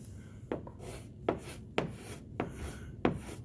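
Sandpaper rubs over a run in a car's clear coat in short, soft, evenly spaced strokes, about one every half second, faint and close with no voices.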